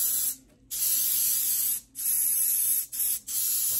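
Spray paint mists from a can onto a painted War of the Worlds alien creature model in several hissing bursts separated by brief pauses, close and steady.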